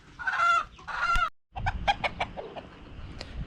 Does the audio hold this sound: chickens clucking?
yes